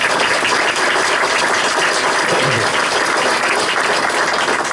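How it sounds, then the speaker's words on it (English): An audience at a 50th anniversary ceremony for the Chesapeake Bay Bridge-Tunnel gives loud, dense applause that holds steady, close and full, for the whole stretch, with no voices over it. "I'll give that another round of applause."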